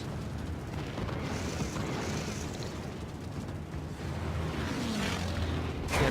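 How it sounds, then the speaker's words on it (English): A battleship's broadside salvo in World of Warships rolls out as heavy, rumbling booms layered over constant battle noise, with a sharp burst near the end; loud and dense, no talking. "Yep, another broadside"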